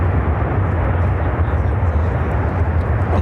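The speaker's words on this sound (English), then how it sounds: "This is United Airlines 928 coming in from London Heathrow on a 22-year-old 767-300ER." A 22-year-old United Airlines Boeing 767-300ER lands at Chicago O'Hare after a flight from London Heathrow, its engines a loud, steady, broadband roar heard close throughout.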